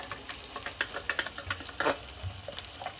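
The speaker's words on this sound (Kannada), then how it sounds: "ಎಣ್ಣೆಗೆ ಸ್ವಲ್ಪ ತುಪ್ಪ ಹಾಕುವ." Ghee dropped into hot oil in a cooking pot, giving a quiet crackling sizzle with irregular pops and spits close by, no talking.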